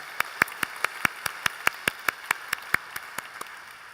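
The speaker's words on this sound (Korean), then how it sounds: "우리 하나님께 감사 영광의 박수 올려드리겠습니다." A church congregation at a special invitation service claps together in a steady, even rhythm of about five sharp claps per second. The claps are crisp and moderately near, with no talking over them.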